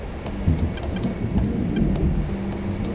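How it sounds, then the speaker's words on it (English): Deep, low thunder rolls through a passing storm, a continuous rumbling swell heard at a distance with faint rain beneath, no voices. "It's a big rolling thunder this time, but it's still rolling. It's really low and deep."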